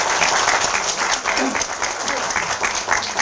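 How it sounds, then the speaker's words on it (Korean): Warm, loud applause fills a room at a Democratic Party lawmakers' meeting, continuous with a few individual claps standing out and brief voices mixed in. "그동안 고생 많으셨다는 의미에서 큰 박수 부탁드립니다."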